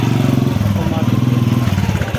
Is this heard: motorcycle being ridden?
yes